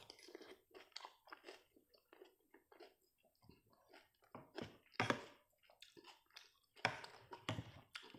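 Close, quiet chewing of raw tamilok shipworm from Palawan mangroves, irregular wet crunches and bites spread across the clip, with no talk.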